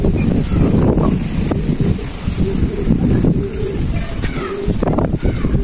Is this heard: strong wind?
yes